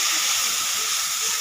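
Liquid poured into a hot pan while cooking Bengali bele fish and potato curry gives a loud, steady steam hiss that holds without a break.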